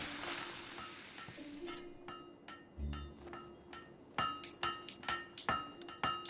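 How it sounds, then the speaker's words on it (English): Metallic hammer strikes on an anvil during blacksmithing in Fable III, a few scattered clinks giving way to a rhythmic run of bright, ringing blows, close up with no talk. "Stop hitting the anvil."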